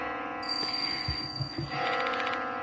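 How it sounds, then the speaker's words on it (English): Eerie bell in the horror game Death Mark II: a sustained high ringing tone starts early and holds steadily for about two seconds over a dense, droning ambient background. "Where's this bell sound coming from?"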